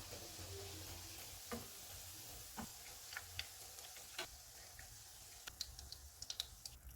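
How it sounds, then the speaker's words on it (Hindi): Tuna kebabs frying in a pan give a faint, steady sizzle, broken by soft clicks and light taps from utensils. "इसी तरह से बाकी भी फ्राई कर लेंगे।"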